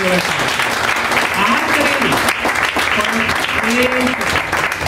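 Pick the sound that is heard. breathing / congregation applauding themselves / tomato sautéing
congregation applauding themselves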